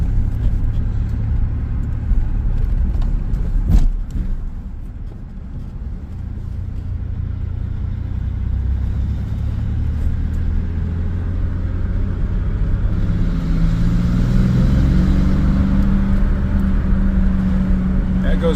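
Car engine fitted with a Holley Sniper S10 fuel injection system, running after a cold start and driving off, a steady close low rumble that builds as revs climb toward the end, with occasional talk over it.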